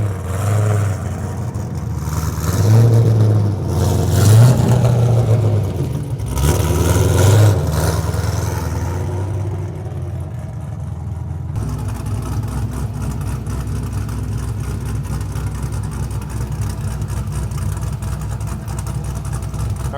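A Pontiac GTO engine runs nearby, swelling through several loud revs in the first half before settling into a steady, rougher idle, with some talk over it early on.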